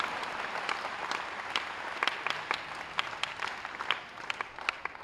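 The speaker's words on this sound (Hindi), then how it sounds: "एनएसएस वॉलंटियर्स जोरदार ताली द्वारा वो आश्वासन आपको देंगे" NSS volunteers give loud, sustained applause at an Uttar Pradesh election office voter-roll revision campaign event, with dense clapping and sharp individual claps standing out, and no speech.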